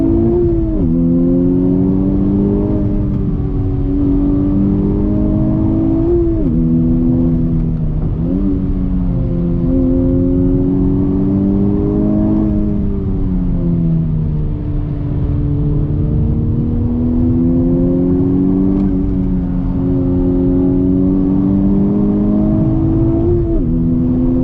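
A 2020 Honda Civic Type R engine pulling hard on throttle, a loud, continuous droning roar from inside the car that rises in pitch, dips at each gear change, then climbs again.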